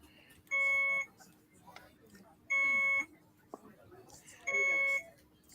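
An electronic alarm from hospital bay equipment beeps in three evenly spaced, loud tonal bursts about two seconds apart, with faint background noise between them.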